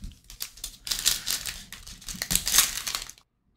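A foil pack of football trading cards from a mega box being torn open, loud close crinkling and crumpling in bursts for about three seconds, then silence.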